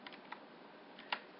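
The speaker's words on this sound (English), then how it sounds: "after typing your security code, you should be set" Keys tapped on a computer keyboard while entering a security code, a few light, sparse clicks at close range with a quiet gap between the first cluster and a slightly sharper final press.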